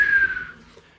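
A mouth whistle made close into a microphone as part of a fire spell sound effect: one short, clear whistle that slides slightly down in pitch and fades into a breathy tail within about a second.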